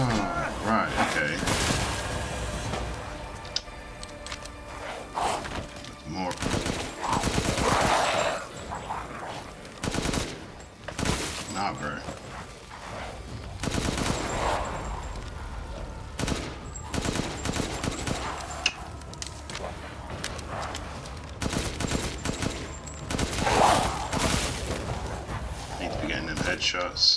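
Repeated gunfire bursts from the video game Resident Evil Village, including rapid automatic-sounding volleys and single shots, loud and continuous throughout amid dense in-game noise, with a person talking over it.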